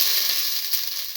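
French beans hitting a hot pan, a loud, close burst of bright sizzling hiss that holds steady for a moment.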